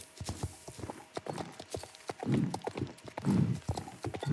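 Rhythmic clip-clop of a horse's hooves galloping in a video game, quick repeated beats close by with soft thuds and breathy swells and no talk.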